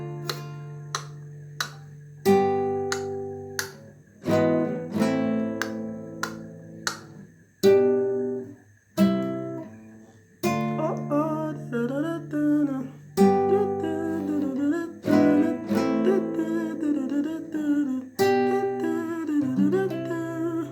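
Guitar playing a song: plucked and strummed chords in a steady rhythm, starting with light muted taps and building into fuller ringing strums, with no voice.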